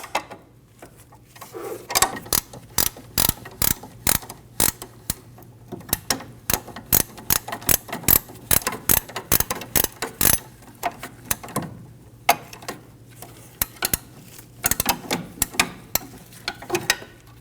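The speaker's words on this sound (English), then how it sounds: "Using an 18mm wrench, we're going to get on the nut." An 18mm wrench ratchets a nut off the axle stud of a Volkswagen Passat, a close, steady series of sharp clicking strokes in quick irregular bursts, with short pauses between runs.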